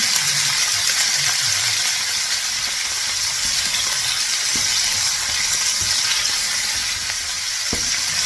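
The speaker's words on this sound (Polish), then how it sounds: "Olej nam się już ładnie zagrzał, więc wrzucamy nasze oczyszczone serduszka." Chicken hearts dropped into hot oil sizzle and fry in a steady, loud hiss for a goulash, with a few faint clinks and no talk.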